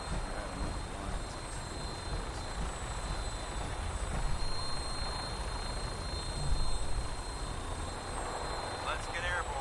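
Aircraft engines spool up for takeoff in the video game Fallout 4, giving a steady, fairly quiet broadband rumble and whine that holds throughout with small swells, alone.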